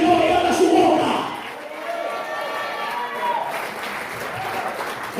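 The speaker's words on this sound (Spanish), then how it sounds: "El aplauso al Señor y abra su boca." Congregation applause during a church sermon, loud clapping with some voices and cheers mixed in, surging at the start then continuing steadily.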